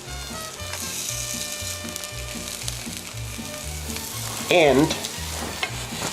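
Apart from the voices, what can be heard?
tortillas sizzling on a griddle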